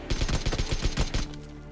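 Rapid automatic gunfire from PUBG Mobile rattles in a fast burst of about a dozen shots, then cuts off into a quiet game backdrop.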